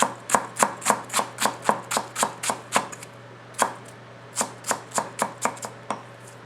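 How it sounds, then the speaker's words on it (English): A Tetsuhiro Handhammer White #1 nakiri knife chops on a board in a quick, steady run of crisp, close strikes, followed after a brief pause by another rhythmic series of chops. "I will do a little chopping and a little rocking."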